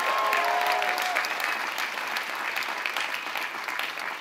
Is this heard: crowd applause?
yes